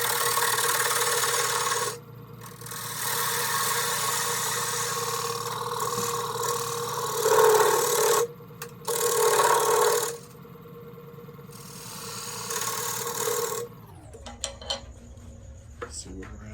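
A skew chisel cuts a tenon on a camphor wood salad bowl spinning on a lathe, a steady rasping scrape in long passes broken by brief pauses, with the motor hum stopping near the end.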